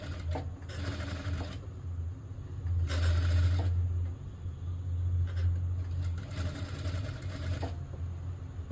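A sewing machine stitches folded thread piping along a blouse neck in three bursts of fast, whirring needle chatter. A low motor hum carries on between the bursts, close and clear with no talking.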